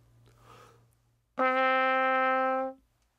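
A single sustained trumpet note, steady and clear, held for just over a second after a brief breathy lead-in, then cut off cleanly.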